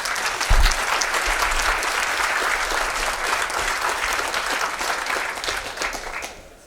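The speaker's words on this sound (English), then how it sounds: "So I want to give them a round of applause." A conference audience breaks into loud, sustained applause, a thick wash of clapping that swells after a sharp opening burst and holds steady before fading away near the end.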